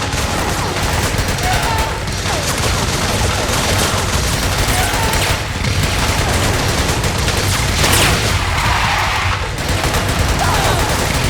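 Dense, continuous gunfire during a vehicle shooting section in Metal Gear Solid 4, loud bursts overlapping without pause throughout.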